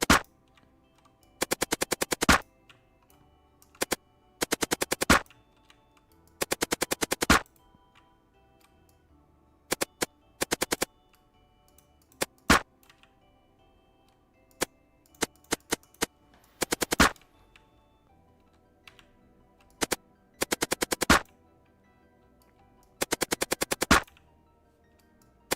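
Bursts of rapid gunfire from a first-person shooter game built in a custom C++ engine, loud automatic volleys and single sharp shots in irregular clusters separated by quiet gaps.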